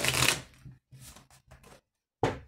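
Oracle cards shuffled in several quick bursts, a loud riffle at the start, softer flutters in the middle and another sharp burst at the end, heard close and without talk.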